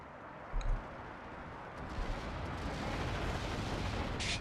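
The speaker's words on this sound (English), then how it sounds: "Damn, that's a lot of bombs." Bombs burst in a Steel Division 44 battle, with a few muffled distant booms and rumbling blasts over a continuous low roar of combat, fairly faint throughout.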